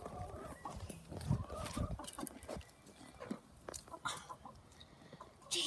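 Chickens cluck in a busy, uneven patter while chasing and catching a mouse, with scattered scuffling and movement noises close by.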